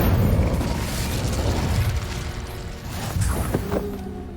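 An Incendio fire spell is cast in Hogwarts Legacy, a dense roaring whoosh and burst of flame that swells loud and sustained for several seconds, then fades slightly.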